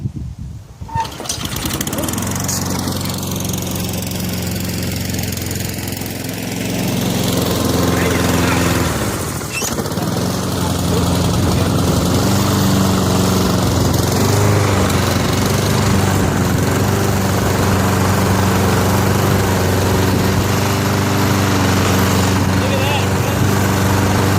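A Honda push mower's small engine runs steadily and loudly from start to finish, with a dip in its drone near the middle before it settles back into a constant hum. Speech is also present.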